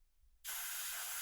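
An airbrush bursts into a sharp, steady hiss of spraying paint, starting abruptly after a quiet moment and continuing evenly, close up.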